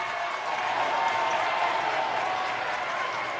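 Basketball crowd at a boys varsity high school game, SDHS against Oxon Hill, roaring and clapping steadily after a turnover, a dense, sustained wash of cheers filling the gym with no break.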